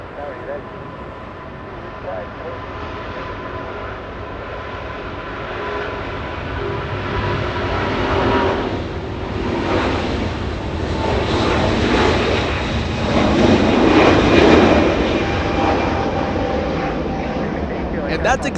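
An airliner taking off from Los Angeles International Airport, its engine roar swelling in waves and growing loudest near the end, with people talking over it.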